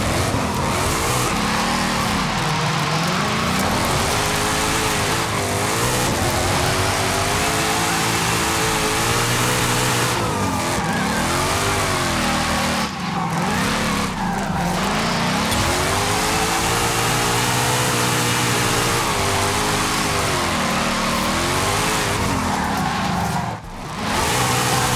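A 2024 Ford Mustang Dark Horse, front-engined and rear-wheel drive, drifts in Forza Horizon 5. The loud engine roars and revs continuously, rising and falling with tyre noise throughout.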